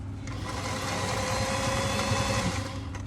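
A sewing machine stitches a fabric strip onto an apron made from overalls, with a steady close motor drone and rapid needle chatter that runs for a few seconds before easing off.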